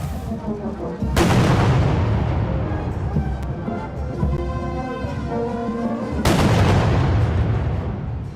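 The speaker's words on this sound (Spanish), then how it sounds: "Vemos que están disparando los policías los gases contra los manifestantes." Police tear gas launchers fire at protesters in Peru: two sharp loud reports a few seconds apart, each with a booming echo, over crowd noise and voices.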